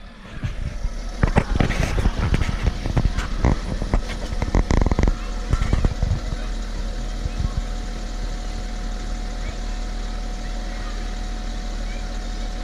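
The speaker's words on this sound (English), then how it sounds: "Engine's running, air compressor's feeding air into the rear section, and now it comes back up." A BMW X5 idles with an air suspension problem while its compressor pumps air to raise the rear, a steady low engine rumble with a constant faint whine. Someone talks over it at first and bumps and clunks come near the start.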